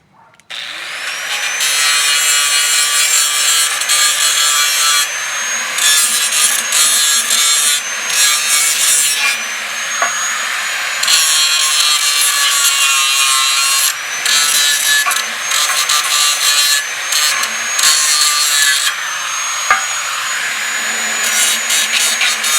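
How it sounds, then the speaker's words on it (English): A power grinder works down a weld on a steel hitch-type motorcycle luggage rack, a continuous high, harsh whine with brief dips and surges as pressure changes, loud and close with no talking. "let's grind that off a little bit."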